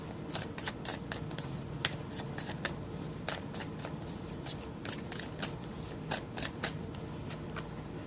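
Tarot cards being shuffled by hand for an advice draw, quick crisp riffles and slaps repeating in an uneven rhythm, close and fairly soft, with no talk.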